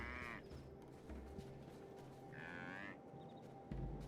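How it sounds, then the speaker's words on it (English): Water buffalo low with a couple of drawn-out moos in the video game Guild Wars Nightfall, heard over steady game ambience and background music. "These are kind of more water buffalo"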